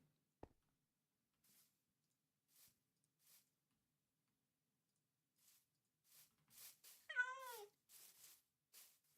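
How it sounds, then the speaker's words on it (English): A Minecraft cat meows faintly a few times in an otherwise quiet game, with one clearer, wavering meow near the end among soft clicks. "The cat does not need to meow every 20 seconds."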